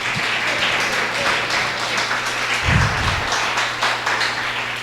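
A church congregation applauds during a Spanish-language service under Pastor Gustavo Avilez, a loud, continuous patter of many hands with a brief low thump near the middle and a steady hum underneath.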